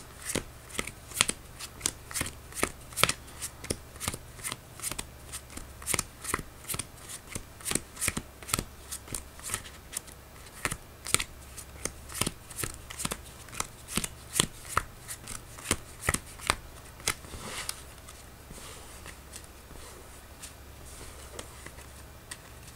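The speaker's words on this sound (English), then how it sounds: "I'll shuffle my deck" A deck of trading cards is shuffled by hand, giving repeated crisp riffling bursts in an uneven rhythm, close and fairly quiet, with no talking.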